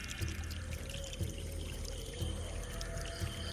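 A magic waterfall in a Hindi cartoon story, pouring in a steady, close rush with rhythmic low splashes recurring beneath the flow.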